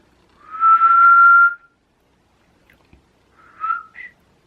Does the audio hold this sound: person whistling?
yes